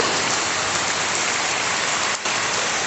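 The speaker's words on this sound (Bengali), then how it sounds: "এত ঝপঝপ করে বৃষ্টি হচ্ছে" Heavy rain falls in a constant, loud wash of noise, drumming steadily on surfaces close by.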